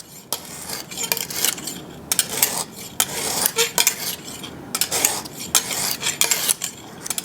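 A knife blade is stroked over a Lansky sharpening stone in repeated rasping passes, about a dozen rhythmic scrapes of varying length, close and clear, with no talking.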